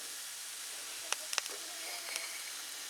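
Steady soft hissing of flux sizzling on molten aluminum, with a few brief sharp crackles and pops partway through; fairly quiet overall.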